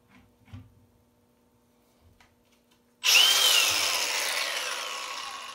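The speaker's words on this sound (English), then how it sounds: "Very nice grinder. Milwaukee's did a nice job with this one." A Milwaukee M18 Fuel 4 1/2 inch cordless grinder (model 2880) spins up abruptly after a few quiet handling clicks, then holds a loud, close, high-pitched whine that slowly fades as it runs free.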